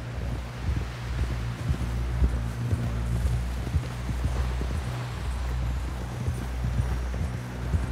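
Steady clip-clop of horse hooves at a walking pace in the video game Red Dead Redemption 2, over a low rumbling background, with faint wind-like noise throughout.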